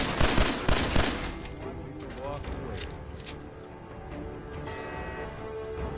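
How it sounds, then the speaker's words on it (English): Automated turret gunfire in the Fallout 4 video game, rapid bursts of shots heaviest in the opening seconds and then continuing more softly under game sounds and a talking voice. "I hear turrets."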